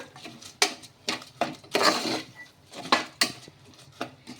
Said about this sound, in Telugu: ఇలా వేసేసుకొని మొత్తం కూడాను ఒకసారి బాగా కలిపేసుకోవాలి, మొత్తం కలిపేలాగా